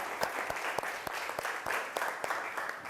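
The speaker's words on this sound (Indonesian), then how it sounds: "beri tepuk tangan dulu untuk kita semua" Applause from a classroom of students, a lively patter of many hands with some sharper individual claps standing out, sustained and fairly close.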